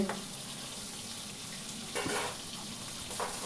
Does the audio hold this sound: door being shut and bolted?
no